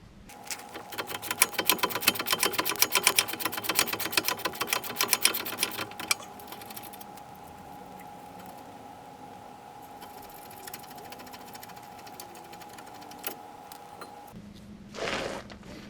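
Ratchet working on the brake caliper mount bolts of a Nissan Altima during a brake pad and rotor job, with a rapid clicking run for about six seconds, then quieter mechanical hum and a short clatter near the end.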